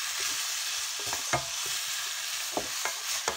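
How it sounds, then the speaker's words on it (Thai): Broccoli is tossed and stir-fried in a hot pan, with a steady sizzle under repeated scraping and clanking strokes of a spatula. No one speaks. "โอเคแล้วก็ผัดให้เข้ากันอีกที"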